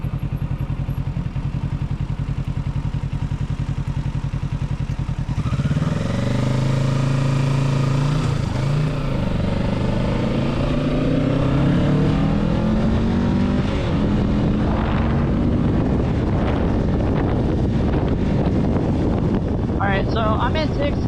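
A 2024 Kawasaki Ninja 650 motorcycle riding on the highway, with a steady engine drone under heavy wind rush throughout and the engine note climbing as it accelerates in the middle.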